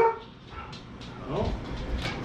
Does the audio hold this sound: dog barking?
yes